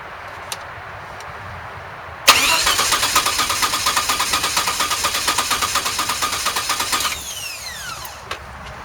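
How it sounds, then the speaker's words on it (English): A DeLorean's starter cranks the engine for about five seconds without it firing, the rotor button removed, making a rhythmic, evenly pulsing whir up close that stops abruptly. "So now, when I crank the engine,"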